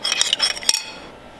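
Metal utensil scraping and clinking against a bowl while an Asian-style marinade is stirred, a brief cluster of bright scrapes and taps ending in a sharper clink, close and alone.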